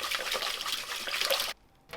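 Tap water running onto a cup of cold rice being rinsed, a steady splashing rush close by that cuts off abruptly near the end, leaving near silence.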